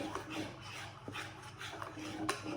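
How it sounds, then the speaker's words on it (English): Vegan donut mixture is scraped out of a bowl, giving soft, quiet rasping strokes in short repeated bursts with a few small knocks, close by and faint. "And just scrape it out, make sure you get all the mixture. Use a spatula if you need to."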